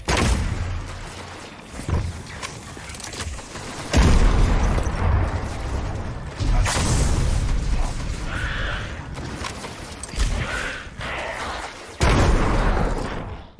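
Gameplay from Destiny, a sci-fi first-person shooter, with repeated sharp bursts of weapon fire and booms separated by mechanical clatter, loud and close throughout.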